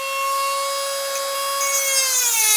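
A power tool cuts and sands a plastic part of a 1/6-scale Dragon DML action figure. It makes a loud, steady high-pitched whine whose pitch sags toward the end, with no talking.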